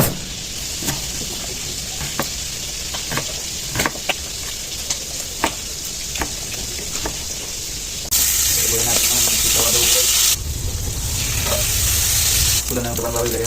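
Vegetables, including eggplant and string beans, sizzle and crackle in a hot pan with scattered pops, then the frying suddenly roars louder for a few seconds as more goes in.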